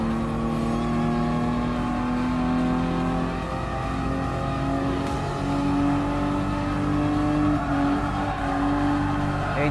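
Ferrari 512 BB engine pulling in second gear from inside the car, a loud, sustained, smooth mechanical drone that rises and holds in pitch, close and continuous.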